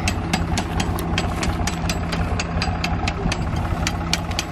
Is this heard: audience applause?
no